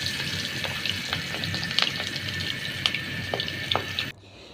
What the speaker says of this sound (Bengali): তেল গরম হলে বড়া শেপে ছোট ছোট করে দিয়ে দিব।